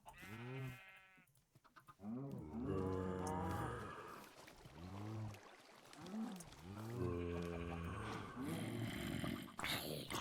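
A cow mooing in a farming video game, several drawn-out lowing calls in sequence, fairly close and clear with no speech.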